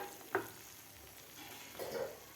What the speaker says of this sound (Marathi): मटार टमाटरसुद्धा आपल्याला व्यवस्थित दोन ते तीन मिनिट ह्या मसाल्यामध्ये व्यवस्थित परतून घ्यायचे आहेत